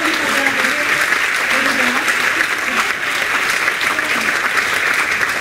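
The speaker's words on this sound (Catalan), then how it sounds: "un fort aplaudiment per a mon pare, per favor" Loud, dense audience applause at a book presentation event in Antella, a continuous roar of many hands clapping with murmured voices mixed in beneath.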